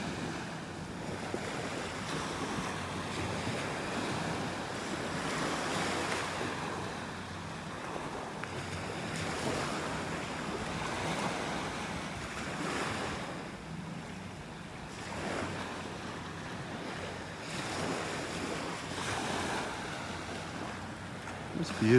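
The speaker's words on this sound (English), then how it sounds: "Some little waves breaking on the shore." Small waves break steadily on a beach shore in North Naples, Florida, on a calm morning, a continuous soft wash of surf with gentle swells and light wind noise, no talking.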